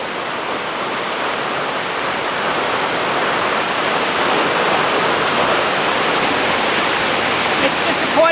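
A waterfall in Zambia pours with a steady, loud, broadband roar heard from nearby, unbroken throughout and growing slightly stronger toward the end.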